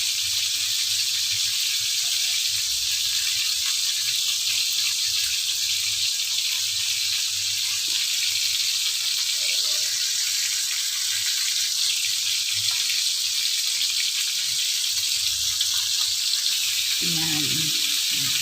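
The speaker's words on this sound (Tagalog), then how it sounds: "Prito-prito niya ngayon. Yung chicken. Para mag-brown-brown." A steady, loud sizzle of chicken frying in hot oil in a pan runs throughout, with a brief clatter near the end.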